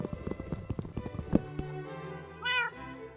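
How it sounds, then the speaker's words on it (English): Minecraft pet cat meows once, clearly and up close, after a run of rapid clicking and block-breaking game sounds, with a short tonal effect between them. "Oh, and there's my kitty, and let's put the lead on him"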